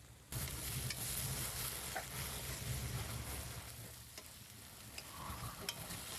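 Asafoetida drops into hot oil for Rajasthani gatte ki sabji, giving a steady close sizzle with scraping stirs and occasional small pops throughout.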